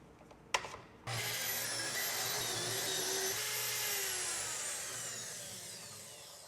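A track saw cuts a cabinet panel with the blade tilted to 45 degrees, starting after a short click and running as a loud, steady, high-pitched whine with a broad rush of cutting noise for about five seconds.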